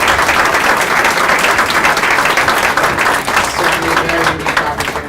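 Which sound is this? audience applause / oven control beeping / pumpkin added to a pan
audience applause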